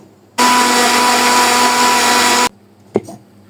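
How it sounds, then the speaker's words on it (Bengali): A kitchen blender whirs loudly and steadily for about two seconds as it grinds onion, green chilli, coriander leaves and garlic into a paste. It then cuts off abruptly, followed by a short clunk. "পেঁয়াজ, কাঁচামরিচ, ধনিয়া পাতা, রসুন একসাথে দিয়ে ব্লেন্ডারে ব্লেন্ড করে নিব।"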